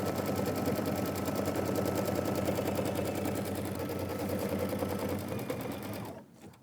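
Sewing machine stitching a fabric bag, a steady fast mechanical rattle running continuously and fairly close for several seconds before winding down and stopping near the end.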